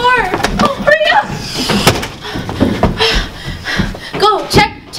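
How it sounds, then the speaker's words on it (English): A door is shut during a frantic scramble indoors, with a sharp close and a thud among hurried movement, while several people shout and talk urgently over it. "Come on, get in! Close the door!"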